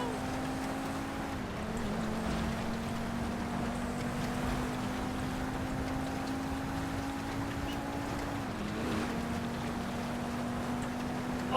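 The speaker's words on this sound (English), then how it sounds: "Redlining the engine." A car engine redlining in a PS5 racing video game: a continuous, loud, high engine drone held at a steady pitch, dipping briefly twice before climbing back.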